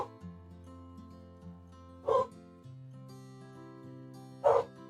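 Dogs yip and bark in two short, loud bursts about two seconds apart over a steady background of low tonal hum.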